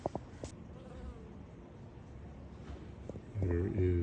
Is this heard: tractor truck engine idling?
no